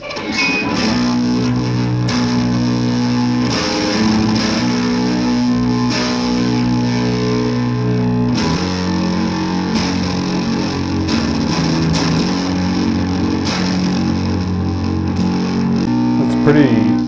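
Electric guitar through a saturated brown-style distortion, playing sustained chords and riffs with a thick, continuous, loud tone, picked-note attacks and a faint hum underneath.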